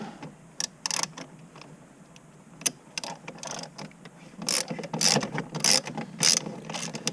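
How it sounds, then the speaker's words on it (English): A 3/8 drive ratchet on an extension works bolts loose on a third-gen Camaro, with bursts of rapid, close clicking pawl action in several short runs and brief pauses between them. "I usually put that on an extension on my 3/8 drive ratchet"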